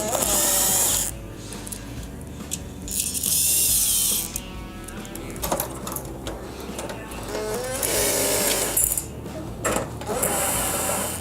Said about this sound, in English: you can remove these 4 1/4 inch screws holding the control board to the unit